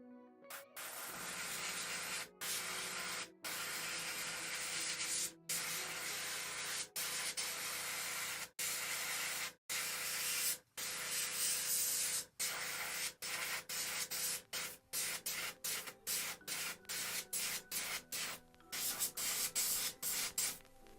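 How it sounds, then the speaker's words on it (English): An airbrush sprays paint onto the base of a Leo Aioria figure from Saint Seiya: a steady, close, soft hiss, broken by frequent brief pauses as the trigger is released. "We don't want a super strong spray, otherwise we're gonna get a lot of overspray where we don't want to get it."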